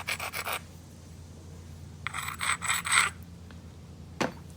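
Rasping grinding strokes of a stone against the edge of a flint core while knapping, two bursts of quick scraping passes separated by a quiet gap, then one short scrape, close and fairly loud.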